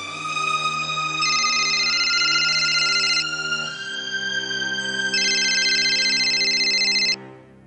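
A phone ringtone plays loud and close, an electronic warbling tone repeating in two bursts over about seven seconds, with no talking.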